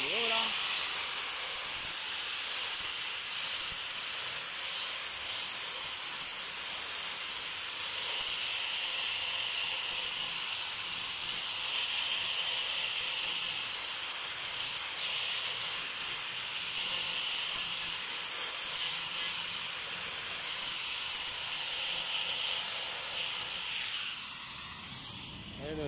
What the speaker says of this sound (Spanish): Una pasadita de pulidora.